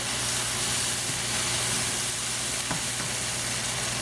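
Chicken stir fry with cashews being mixed in a hot pan, giving a steady, close sizzle and hiss with a few faint scrapes of stirring, and no voices.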